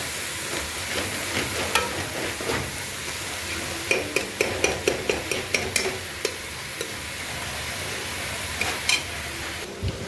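Onions, about one and a half kilos, frying in a pan while being stirred, a continuous close sizzle broken by a run of sharp metallic scraping clicks from the spoon in the middle.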